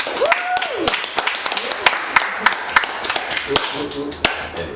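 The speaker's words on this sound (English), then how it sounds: "Everyone give a round of applause for Rolla." Audience applause for an interview guest: scattered, uneven claps building into a loose round of clapping, fairly close, with a few voices under it.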